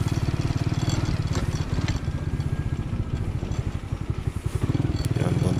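A motorcycle rides over a rough, partly dried dirt road on Burias Island. Its engine throbs loudly and continuously up close, with a rapid, rattling pulse throughout.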